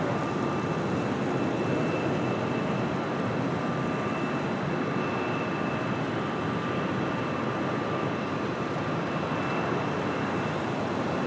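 Frontier Airbus A320neo taxiing at LAX, a steady broad engine roar with a faint high whine, continuous and moderately distant, with no talk.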